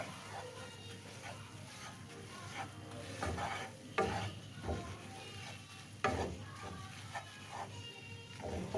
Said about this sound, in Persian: بعد اینو من با یه مقداری هم روغن میریزم و خوب توی روغن و کره تف میدم